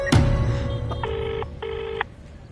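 Ringback tone of a phone call to a father: two steady, evenly spaced electronic rings after a sharp opening click, heard over a low background rumble.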